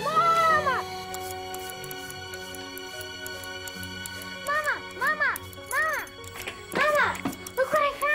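A cat gives a string of repeated meows, close and clear, over a low background hum.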